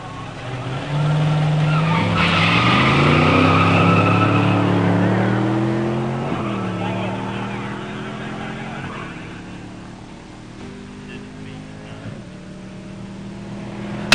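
A 1972 Mustang 351 automatic and a 1966 Corvette 327 300hp four-speed launch in a drag race, engines roaring loud with rising gear pitch and shifts, then fading as the cars pull away down the strip.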